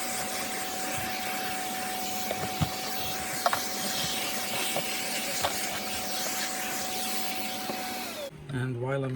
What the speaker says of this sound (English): I'm going to get the hoover into it